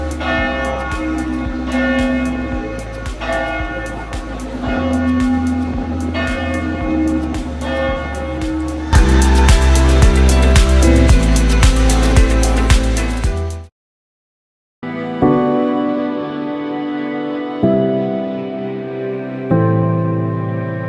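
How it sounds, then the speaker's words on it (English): Church bells of the Basilica di Santa Maria in Venice peal loudly and continuously with overlapping resonant strikes, breaking off into a brief silence before ringing on again. "you can't miss making a stop at Basilica di Santa Maria and experience the resonating church bells"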